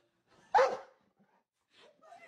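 A dog unhappy with water lets out one short, sharp yelp-like bark near the mic, followed by fainter whimpering sounds after a pause.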